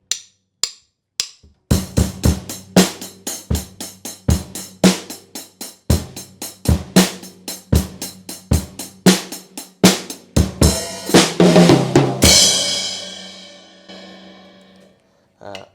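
A drum kit plays a section of a song. A few sparse opening hits lead into a steady groove of punchy kick and snare strokes, building to a crashing fill and a cymbal wash that fades out, close and without talk.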